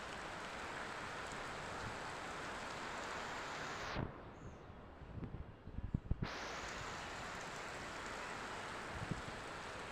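Rain falls outdoors with wind, a steady loud hiss of rain that drops away briefly midway, leaving a few soft knocks and rustles, then returns just as dense.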